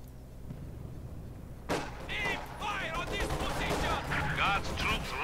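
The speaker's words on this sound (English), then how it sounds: "120mm mortar." Battle sounds from Company of Heroes 2: a 120mm mortar and gunfire. Low rumble first, then a sharp blast and a run of shots and explosions with whistling projectiles, with a commentator talking over it.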